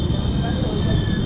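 The Kanniyakumari Howrah Superfast Express rolls slowly through Hijli station, a steady low rumble of wheels and carriages with a faint high tonal whine running throughout.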